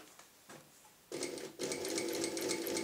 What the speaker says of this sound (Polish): bez problemu, maszyna to szyje skórę